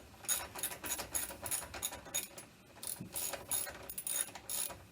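A ratchet tightens the shock bolts on a 2019 Triumph Street Twin with rapid bursts of close metallic clicking. The bursts stop and start in short irregular runs, with brief pauses between them.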